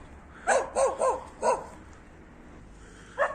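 Dogs in an apple orchard in autumn: one barks four times in a quick irregular burst, then once more after a pause; moderately close, with quiet background between barks.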